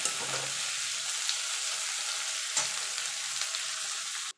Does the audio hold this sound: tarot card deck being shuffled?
no